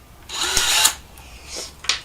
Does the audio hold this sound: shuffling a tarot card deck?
no